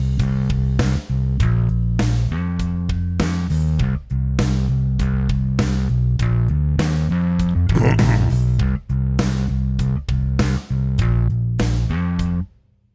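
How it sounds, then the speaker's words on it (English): Bass line from EZ Bass played over an 8-bar Superior Drummer loop, steady drum hits and sustained low bass notes looping for about twelve seconds, loud and alone with no talking, in a Cubase recording session. "So this is the bass line, and I just have Superior Drummer going around an 8-bar loop in the background."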